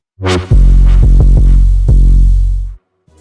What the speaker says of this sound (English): together, the first bass and the 808s sound like this